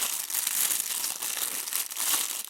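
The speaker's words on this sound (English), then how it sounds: "Let's remove the watch from that protective plastic bag" Clear protective plastic bag crinkling close up as a Casio resin analog quartz wristwatch is unwrapped, continuous busy rustling and crackling with no talk.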